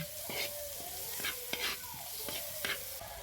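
Garlic sautéing in margarine in a frying pan gives a close, steady sizzle punctuated by repeated scraping taps of a spatula as it is stirred.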